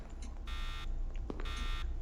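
An oxygen warning alarm in the Roblox horror game Forgotten Memories sounds as two loud, sustained electronic buzzer tones, each about a third of a second long, separated by a short gap.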